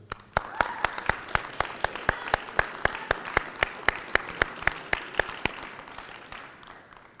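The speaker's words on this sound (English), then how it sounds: "so we're going to give you a big round of applause." A crowd applauds at a 2016 community school graduation ceremony, with dense sustained clapping over a steady series of sharp, rhythmic louder claps close by, fading slightly toward the end.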